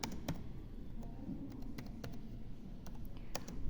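Questions typed on a computer keyboard, scattered soft key clicks at an uneven pace against a low constant background hum.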